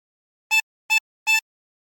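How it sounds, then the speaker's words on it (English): Tremolo harmonica with 20 holes, three short drawn notes breathed in through hole 12, evenly spaced and close, each a bright reedy tone with silence between. "Breathe in through 12 3 times."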